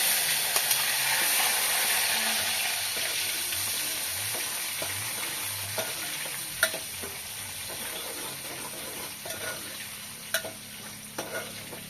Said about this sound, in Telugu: ఇట్లా మంచిగా ఫ్రై అయిపోయిన తర్వాత మంచిగా ఫ్రై చేసుకుంటున్నాను